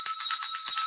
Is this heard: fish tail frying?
no